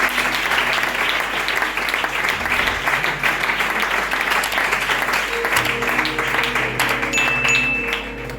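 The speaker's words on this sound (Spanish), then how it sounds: "Fuerte el aplauso al Espíritu Santo," A church congregation applauding during a sermon, sustained dense clapping throughout with faint voices and tones mixed in, easing slightly at the end.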